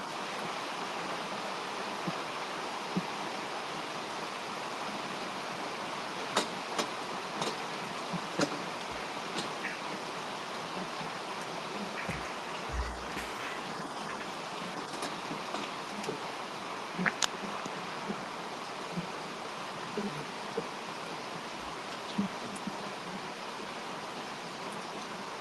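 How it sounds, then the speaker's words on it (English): Heavy rain pours down in a steady, dense broadband wash throughout, with occasional faint clicks and knocks sitting on top of the constant roar. "it's pouring down behind them"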